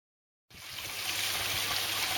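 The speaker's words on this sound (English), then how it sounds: "Waterfall blade back up and running." Water pours over a garden koi pond waterfall blade, starting abruptly after a half-second of silence and settling into a steady, loud, full rushing splash that continues unbroken.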